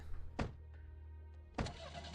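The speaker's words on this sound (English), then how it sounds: "Oh, they have, like, an actual car." An actual car in the Arknights game, heard as two sharp whooshing bursts over a low steady engine hum, with a couple of faint clicks between them, close and fairly quiet.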